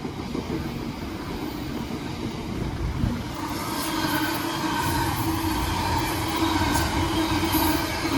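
A West Midlands Railway passenger train bound for Birmingham International passes close by on the Walsall line, a steady loud rumble of wheels on rail with rising metallic hiss and faint squeal as it rolls through.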